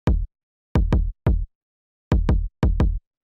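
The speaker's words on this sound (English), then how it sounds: "it really brings out, like, the attack of that kick" Punchy hip-hop kick drum with a fast pitch envelope, a series of short deep thumps with sharp attacks, played in a loose pattern of single and doubled hits with silent gaps between them.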